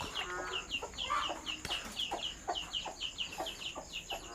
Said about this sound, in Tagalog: Bakit may mga Bisayang manok dito?